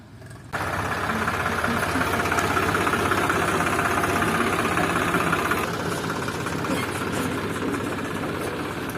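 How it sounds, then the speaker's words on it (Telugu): A tractor engine runs steadily at a rural village while water is being brought, starting abruptly with a loud, continuous low rumble and throb that holds at a constant level throughout, close and without speech. "ఇట్లా వస్తుంది ట్రాక్టర్ ఇప్పుడు చూడండి"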